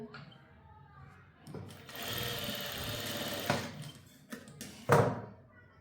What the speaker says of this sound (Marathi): या साईडला पण आपण टीप मारून घेऊया